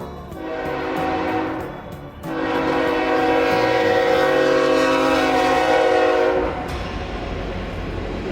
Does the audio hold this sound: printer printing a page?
no